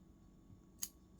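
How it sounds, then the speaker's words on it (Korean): Scissors snip crochet yarn with two quick, crisp cuts, one near the middle and one at the very end, over a quiet, faintly humming room. "가위로 커팅해 줄게요."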